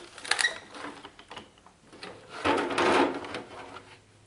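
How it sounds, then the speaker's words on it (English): Foam tape being cranked through an AccuCut die-cutting machine, a close mechanical rubbing and creaking with a few clicks, then a longer louder grinding stretch as the rollers turn. "So here I am just rolling it through the AccuCut machine,"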